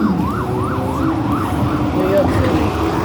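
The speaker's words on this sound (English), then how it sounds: "And I hear an ambulance truck," An ambulance siren wails along a New York City street, its rising and falling tone repeating steadily over loud, dense traffic rumble, sounding moderately distant rather than right alongside.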